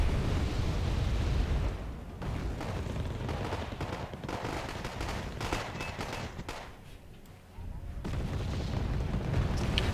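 Units trade fire in a Wargame Airland Battle match, with T-64 tanks among them: dense, rumbling battle noise of shots and impacts rolls on steadily for the whole stretch, briefly thinning in the middle before swelling again.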